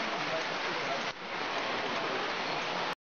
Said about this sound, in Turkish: Yağmurun şiddetini duymanız amacıyla videonun sesini kısmadım.